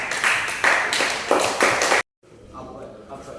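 Students in a classroom clap for a classmate, Laura, in loud rhythmic bursts for about two seconds before it cuts off abruptly to a quieter room tone.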